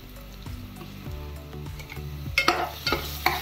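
Ginger garlic paste and onions sauté in hot oil in a pan for a chicken Hyderabadi dish, with a constant sizzle under repeated scraping stirs that grow sharper and louder toward the end, close up and without speech.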